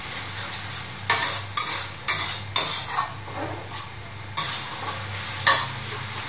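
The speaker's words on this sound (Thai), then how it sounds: "นี่นะคะพริกชี้ฟ้านะคะแดงเขียวเหลืองใส่ลงไปเลย" Red, green and yellow chili peppers are stir-fried in a pan, with a steady sizzle broken by several sharp clanks and scrapes of a utensil against the pan, close and fairly loud.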